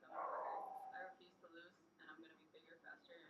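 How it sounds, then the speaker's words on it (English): Dogs bark out in a hallway, heard indoors at a distance, a loud yelping burst at the start followed by fainter barks beneath someone talking throughout. "sounds like there's some action going on out in the hallway with some dogs"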